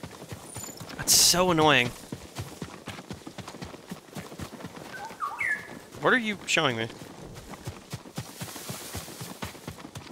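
Horse hooves clip-clop steadily in Ghost of Tsushima, mixed with bird calls and a few whistling game sounds. A person talks over part of it.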